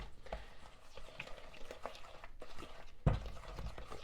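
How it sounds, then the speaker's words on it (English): White and brown sugar mixed in a bowl for cookies gives faint, irregular scraping and pattering strokes, with one sharper knock near the end. "And then I'm going to mix that up nicely."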